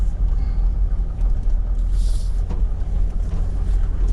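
A Toyota 80 Series 4WD rolls slowly along a forest track in Wilga State Forest, South West WA, easing around a fallen log, its engine a steady loud low rumble with some wind buffeting on the microphone.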